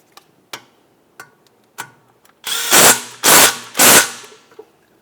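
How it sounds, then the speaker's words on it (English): Power tool snugging a rear brake hose mounting bolt on a 2015-2019 Subaru Outback: a few faint ticks, then three loud close whirring bursts in quick succession, each about half a second long. "Line it up, start in your mounting bolt, snug it up."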